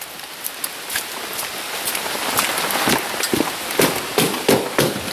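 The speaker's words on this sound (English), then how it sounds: "This is good because we needed this rain." Heavy downpour in a yard beside a tiny home under construction: a steady, dense hiss of rain with irregular sharper drops and splashes striking nearby surfaces, fairly loud and close, with no talking.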